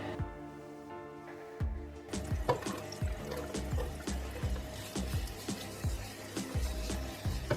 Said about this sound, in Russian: На смеси растительного и сливочного масла обжарю лук до золотистого цвета